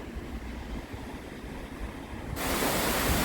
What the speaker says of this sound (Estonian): Joa vaatamine, väike suurem juga, Lover Waterfall.